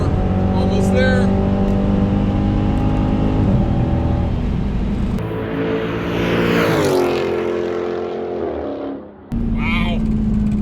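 A Dodge Scat Pack muscle car engine roars and climbs through the revs, shifting gears as it accelerates hard in a 60-130 mph run, loud and close, with brief voices over it.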